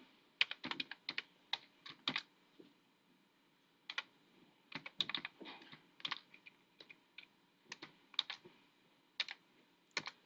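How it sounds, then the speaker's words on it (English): Computer keyboard typing while entering a value into an online graphing calculator: bursts of quick, close key clicks in irregular clusters with short pauses, no talking. "I'm going to type in 70 here."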